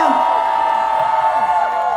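Loud festival concert crowd of fan club members cheering and whooping at an outdoor apple festival, a dense sustained roar with shouted voices rising over it, close and continuous.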